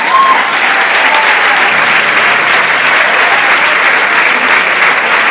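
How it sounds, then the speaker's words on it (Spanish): A large festival crowd at Festigal 2012, a Galician music event, applauds steadily and loudly for the whole stretch, a dense sustained wash of clapping with no break. "Un aplauso grande"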